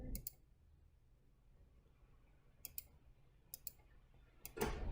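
Keys pressed on a TI calculator: a few sharp, close plastic clicks in small clusters at the start, in the middle and at the end, over a quiet background with no talk.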